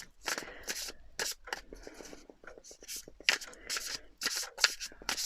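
Tarot cards being shuffled by hand close up, quick papery riffles and soft flicks in uneven bursts with brief slaps of the deck, quiet and intimate.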